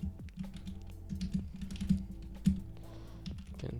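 Someone types on a computer keyboard, producing a steady, fairly quiet patter of keystrokes with a few louder taps and no talking.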